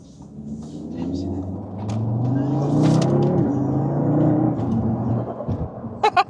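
A stage 1 Audi RS3 running E85 pulls hard from inside the cabin, its engine drone rising in pitch and loudness under a passenger's voice, then easing off with a few sharp turbo flutter chirps at the very end.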